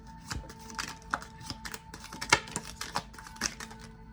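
Tarot cards being shuffled by hand, a quick series of soft riffling flicks and papery taps, close and fairly faint, with a light hum of background music beneath.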